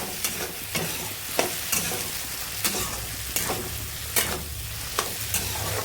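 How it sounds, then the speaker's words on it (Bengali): Fish oil chorchori, a Bengali dish, stirred with coriander leaves in a pan, the spoon scraping in regular strokes roughly every half second over a steady soft sizzle, close and moderately loud. "ধনে পাতা দিয়ে কিছুক্ষণ নাড়াচাড়া করে নামিয়ে দেবো।"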